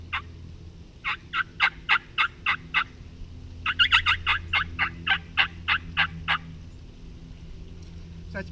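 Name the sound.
turkey yelping imitated with a mouth call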